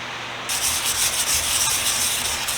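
A stiff scrubbing brush scours a rusty, grimy vise, giving a steady close rasping rub that starts abruptly after half a second and continues in short repeated strokes.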